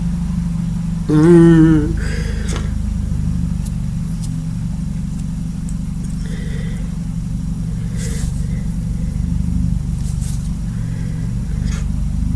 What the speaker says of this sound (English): Y'all hear my car?